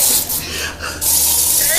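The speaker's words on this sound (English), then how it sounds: "Spray it into her face." Spray hissing toward someone's face in bursts at close range, with a short lull before one long continuous spray. Voices talk over it.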